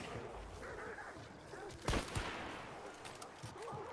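Gunfire rings out in a first-person shooter video game, with a sharp loud shot near the middle over a constant busy game soundscape and a couple of softer pops around it.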